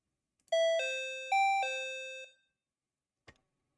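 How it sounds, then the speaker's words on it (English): A JR West-style train door closing chime from the Densha de GO video game plays as a clean two-part electronic melody of sustained bell-like tones, followed by a brief faint click after it ends. "it sounds like a JR West door closing chime"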